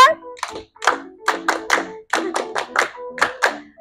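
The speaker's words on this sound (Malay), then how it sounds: "Sila beri tepukan." A classroom group claps a rhythmic pattern in sharp, loud bursts with short gaps between the clusters.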